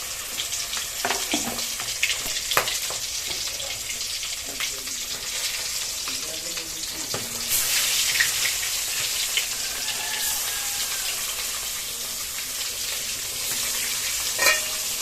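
A rohu fish head fries in a pan, giving a bright, constant sizzle with scattered scraping stirs. The hiss grows louder and denser about halfway through, close up with no talk.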